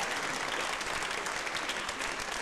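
Steady, dense applause from an audience at a Christmas play event, honoring the organizing committee, filling the space evenly at a fairly soft level with no voices standing out.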